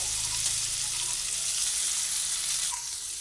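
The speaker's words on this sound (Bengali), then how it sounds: "আলুটা কিছুটা ভাজা হয়ে যাক" Salted potatoes fry in a pan with a dense, continuous sizzling hiss that stays loud and even throughout.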